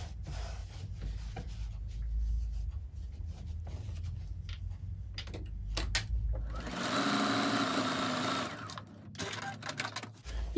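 A sewing machine quilting a zipper pouch runs in steady, rapid stitching bursts with brief pauses, close and fairly loud, then shifts to a brighter whirring stretch near the end; no one speaks.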